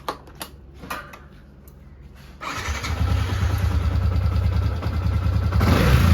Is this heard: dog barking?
no